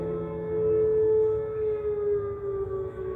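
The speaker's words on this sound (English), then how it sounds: "It's the siren that's being heard right here." An Oklahoma tornado warning siren wails steadily across the whole stretch, a sustained tone drifting slowly in pitch with a faint rise and fall, heard from a distance in open outdoor air with no talk.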